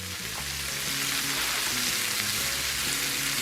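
Garlic, onions and mushrooms fry in bacon fat in a cast iron skillet with a steady, close sizzle that runs unbroken, while faint tonal background music plays underneath.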